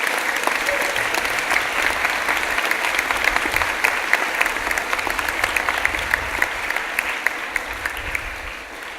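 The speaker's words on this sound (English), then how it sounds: "I think they deserve a big round of applause for their efforts." Sustained applause from a large audience at a Catholic college archbishop's launch event, a dense even wash of clapping held throughout at steady volume.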